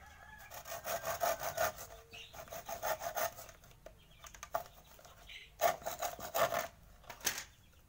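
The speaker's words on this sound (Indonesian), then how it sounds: "saya potong pakai gergaji saja, nggak apa-apa" A hand saw rasps back and forth in quick rhythmic strokes through a stem, close up, with short pauses between bursts of cutting.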